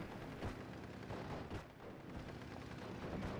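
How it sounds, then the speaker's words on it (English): A Spitfire Mark 9 bombing strike in the war game Steel Division: Normandy 44 brings dense, continuous explosions and gunfire, with sharp blasts punching through a loud, unbroken battle roar. "Spitfire Mark 9 going to be coming in for the bombing strike onto the Pak 38."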